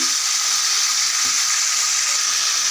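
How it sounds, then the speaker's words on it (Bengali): Turmeric-coated whole chicken frying lightly in oil, giving a steady, close, even sizzle with no voices throughout. "মুরগিটি আমি হালকা করে ভেজে নেব"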